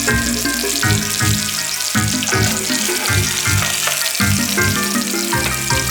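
A burger patty made in the style of an In-N-Out Double-Double sizzles in a frying pan with a loud, continuous hiss. Rhythmic background music plays over the frying throughout.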